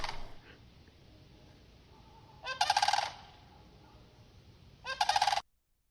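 Two loud, wavering loon calls ring out a few seconds apart, each lasting under a second, over a faint steady background hum with no talking.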